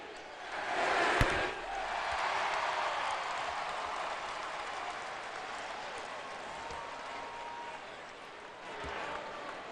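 A basketball arena crowd roars and applauds after a game, a broad wash of cheering that peaks early and slowly fades to a sustained murmur.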